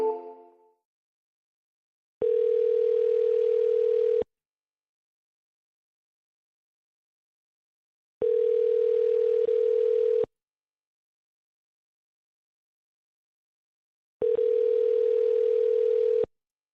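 Outgoing telephone call to a property seller, ringing back as three long, evenly spaced ring tones about two seconds each, separated by roughly four-second silences, clear and isolated with no voices.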